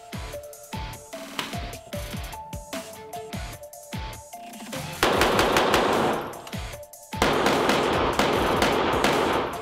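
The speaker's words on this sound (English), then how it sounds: "if you're in a range that allows you to rapid fire, this is a whole nother area that you can focus on and work on is throttle control" Rapid pistol fire at an indoor shooting range: dense bursts of sharp, loud shots in quick succession, with harsh reverberant volleys building toward the end and no talk.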